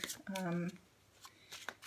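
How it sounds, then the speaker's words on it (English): Witch's Tarot cards being shuffled by hand, a faint papery riffle in short bursts, with a brief voice sound near the start. "I always give them a good shuffle before I start too"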